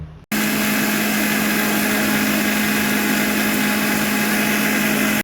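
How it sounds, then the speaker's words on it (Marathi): Electric mixer grinder whirring loudly and continuously after a sudden start, grinding soaked urad dal into a fine paste, a steady high motor whine with no talk. "हे बघा हे मिक्सरला लावून आता आपण घ्यायचं आहे"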